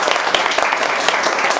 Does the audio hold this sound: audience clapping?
yes